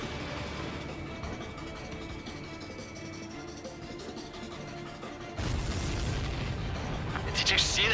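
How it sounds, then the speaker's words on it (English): Explosions in the Ace Combat 7 flight combat game: a rumbling roar of game audio that swells into a louder, heavier blast near the end. "Did you see that explosion?"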